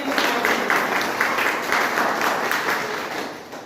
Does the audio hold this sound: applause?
yes